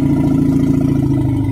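A very deep, continuous elephant rumble, steady and droning like an idling engine, heard alone and fairly loud throughout.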